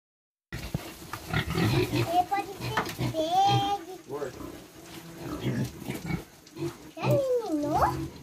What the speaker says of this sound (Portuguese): A gente vai fazer uma troca aí de lugares que esses porcos vão ficar.